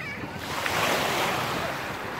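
Sea waves wash onto the sandy Makadi beach in a steady, broad surf roar that swells slightly in the middle, with some wind buffeting the microphone.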